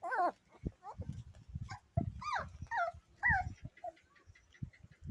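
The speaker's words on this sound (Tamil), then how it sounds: "வேட்டை நாய் தான் எல்லாம்." Hunting dog puppies whimper and yip in a string of short, high, wavering cries, some close and loud, with scuffling and low thumps between them outdoors.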